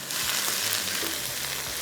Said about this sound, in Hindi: थोड़ा सा इसको करेंगे फ्राई।